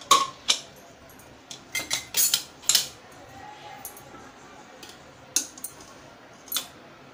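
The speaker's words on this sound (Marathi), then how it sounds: "आपण कुकर उघडूया" A metal pressure cooker of boiled chickpeas and potatoes is opened after cooling, giving a string of sharp, close metallic clinks and clatters of the lid and weight, spaced irregularly over quiet background.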